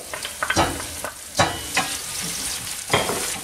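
Garlic sizzles in a hot pan in a Mexican kitchen, with a series of loud scraping stirs and bursts of frying hiss spaced irregularly over a steady crackle.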